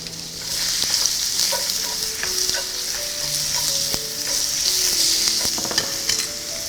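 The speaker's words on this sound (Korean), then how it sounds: "팬에 올리브유를 먼저 넣으셔서 호박 넣어줄게요." Zucchini fries in olive oil in a pan with a loud, steady, close sizzle that runs throughout, along with scattered clinks and scrapes of a utensil moving the pieces.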